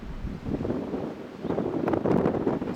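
Strong wind blowing across open country at a railroad crossover, a continuous rumbling gusty rush buffeting the microphone, swelling louder toward the end with no talk.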